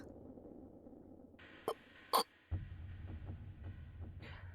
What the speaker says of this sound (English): my heart beat so loud that I could hear it